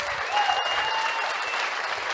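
A live podcast audience claps steadily, a dense, even round of applause close by that fills the whole stretch without talk.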